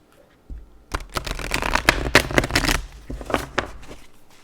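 Quick, crisp riffling and slapping of Aquarian Tarot cards being shuffled in irregular bursts, fairly close and loud, with no talking.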